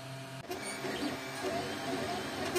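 A 3D printer with a 0.4 mm nozzle runs a print, a close mechanical whir with shifting stepper-motor tones, steady and moderately loud, starting after a brief quieter hum.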